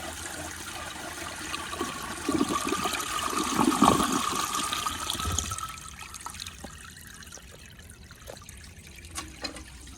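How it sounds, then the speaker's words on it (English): A 1959 American Standard one-piece toilet with an overfilled tank flushes with a fairly quiet rushing swirl of water. The flow swells for several seconds, then fades into a gentle trickle and refill. "So here's a flush on an overfilled tank."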